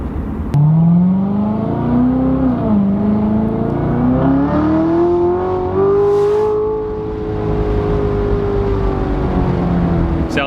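A 2016 Chevrolet Corvette Z06 engine climbs from a low burble toward redline in a long, loud, rising rev with a brief dip partway, then holds near the top before easing off slightly.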